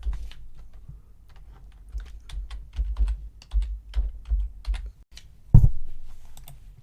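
Someone types on a computer keyboard at a Windows machine, making a run of quick, irregular clicks and taps at close range. One sharper, louder keystroke lands near the end.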